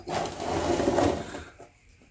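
A hand-cranked cutter grinds around a Fram Endurance FE7317 oil filter casing to open it. A close, raspy mechanical churning lasts about a second and a half, then fades to quiet.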